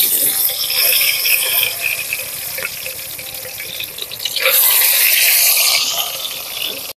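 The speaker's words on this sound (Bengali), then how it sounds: "তেলটা গরম হয়েছে, বড় দিয়ে দিন" Lentil paste fritters fry in hot oil with a steady, dense hiss and crackle close by, swelling louder partway through, with no talking.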